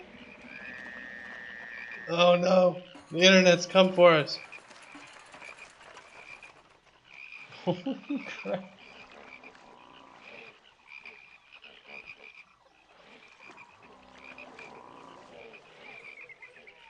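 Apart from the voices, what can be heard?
frogs croaking in the Pharaoh video game's plague of frogs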